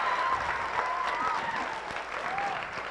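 Audience applause at a spring sing musical show honoring a cast member, a full crowd clapping steadily with a sung or whistled tone drifting over it and some murmuring voices, loud and continuous.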